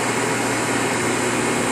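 A Wit-O-Matic 500 grinding machine runs in a shop, giving off a steady, dense, broadband mechanical whir with a low hum. The level stays even and close throughout, and no one talks.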